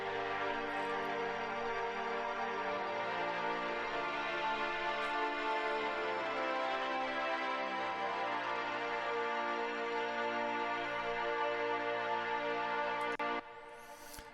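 Sustained pad chords on the Labs string cello, part of an organic house track, swell in long, overlapping, slowly changing harmonies, steady and full throughout before cutting off near the end.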